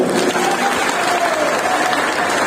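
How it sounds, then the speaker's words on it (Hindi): Loud, dense applause from a large crowd at a Hindu Jagran Akhand Bharat resolution rally in Nimbahera, a steady wash of many hands clapping close by with no pauses. "इन सब के लिए जोरदार तालियां"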